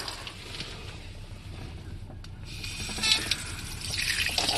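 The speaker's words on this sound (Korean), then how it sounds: "누르면은 물이 나오고," Shower water runs from a hose inside a Starex Euro van home camper, a faint, steady hiss and splash with no voices.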